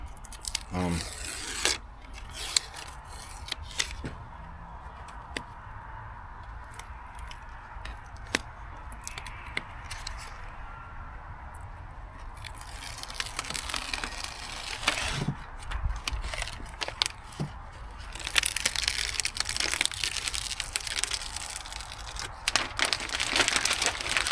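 Adhesive backing sheet peeled and tearing off a large decal piece during a Yamaha VXR Pro 701 jet ski restoration, a long run of close dry ripping and crinkling rasps that grows denser and louder toward the end.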